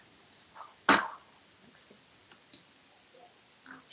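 Computer mouse buttons click on a Mac during work in EBP invoicing software: a handful of sharp, close clicks spaced irregularly, one noticeably louder, over a quiet background.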